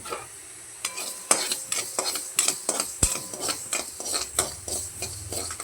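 Rapid, irregular crackling and popping of mustard seeds close by in a dry pan, with occasional louder snaps and a faint scrape of stirring; no voices.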